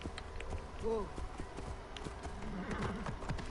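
Hooves of a ridden horse clip-clop in steady, running rhythm through a video game's ancient Alexandria street scene, mid-loud amid ambient game sounds and a brief whinny-like tone.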